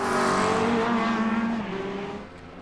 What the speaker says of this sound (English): Hear that nice American Corvette through the hills of Australia, around Mount Panorama.